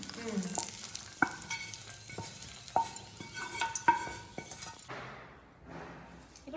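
Oil sizzling in a pan as mint is fried, with occasional sharp clinks of a utensil against metal, fading near the end.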